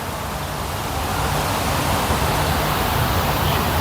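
Water feature flowing outdoors at 360 Mall in Kuwait, a steady broadband rush of falling water, loud and constant throughout with faint traffic from a nearby highway underneath.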